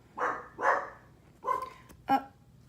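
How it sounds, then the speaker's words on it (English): A dog barks four times indoors, two quick barks, a pause, then two more sharper ones, fairly close and clear against a quiet background. "We're gonna have dog interruption already."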